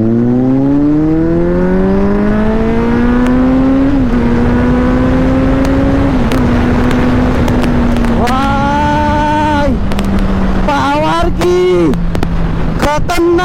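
A Kawasaki Z900 and a Benelli 600i race up close with loud engine howls that climb in pitch through several gear shifts, then fall into sharp bursts of throttle blips near the end.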